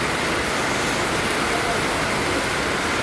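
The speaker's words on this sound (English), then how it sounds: "and it's raining" Steady rainy-season rain over a flooded area, a dense, even hiss across the whole clip with no breaks and no voices.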